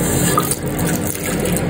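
Steady running tap water gushes and splashes close by while parts of a pet water fountain are rinsed under it in a sink, a continuous full hiss with no pauses.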